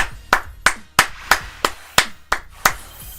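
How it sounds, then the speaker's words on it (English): Eight or nine crisp, close claps at an even, deliberate pace, like one person slowly clapping after a Pokemon TCG Pocket match. "People, round of applause for JP."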